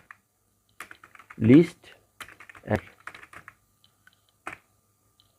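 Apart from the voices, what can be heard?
pressing keys on a computer keyboard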